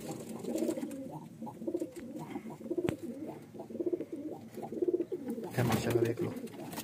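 Golden pigeons coo in low, repeated throaty bursts close by, steady throughout, with a brief louder rustle near the end.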